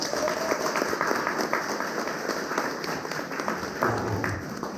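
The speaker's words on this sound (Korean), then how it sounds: "역시 박수 나오는 거니까" A crowd applauds steadily throughout, a continuous patter of many hands clapping at moderate volume, with faint voices underneath.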